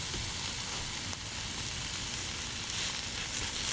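Portobello mushrooms with green onion and ginger fry over high heat in a pan, a dense, continuous sizzle close by, with a faint clink near the middle and no talk.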